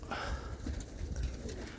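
Roller pigeons cooing in a loft, soft low repeated coos blended with a steady background hum, moderately close and without any talking.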